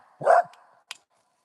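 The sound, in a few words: dog barking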